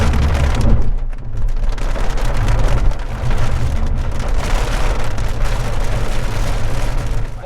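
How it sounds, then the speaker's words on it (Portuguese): Heavy rain pours down across farmland in the American Midwest, a loud, dense, constant hiss of drops hammering surfaces, with no talk over it. "Chuva no meio oeste americano. Ó aí, gurizada, ó a chuvarada nós vamos pegar aqui na sequência."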